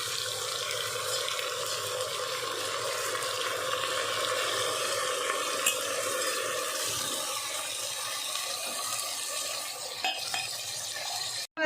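Water pouring into a pot holding raw rice and toor dal for sambar rice, a steady, close splashing rush that runs without a break and stops abruptly at the end.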